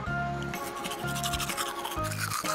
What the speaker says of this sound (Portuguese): Mas agora tem que escovar os dentes.